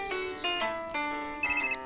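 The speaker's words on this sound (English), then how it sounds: "Oh, my phone's ringing." A cartoon phone plays a bright electronic ringtone, a looping melody of clear synthetic notes that steps up in pitch near the end, loud and close with no talking over it.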